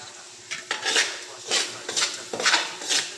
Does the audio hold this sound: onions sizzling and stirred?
yes